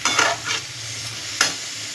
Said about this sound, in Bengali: এর মধ্যে একটু চিনিটা দিয়ে আমি একটু ভাজা ভাজা করলে কী হবে